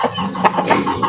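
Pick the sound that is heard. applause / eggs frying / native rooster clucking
native rooster clucking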